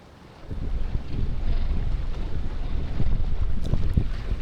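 Boat engines churning steadily as a vessel spins around in a tight space near a pump station, a broad low rumble with wind noise, rising after a quiet start and holding loud throughout.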